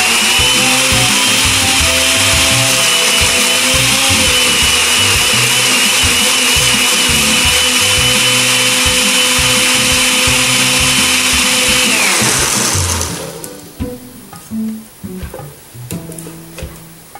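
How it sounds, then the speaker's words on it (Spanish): A blender whirring loudly and steadily for several seconds blending fruit juice with pear, then shutting off and winding down, leaving faint clunks and rattles. "Procedemos a licuar."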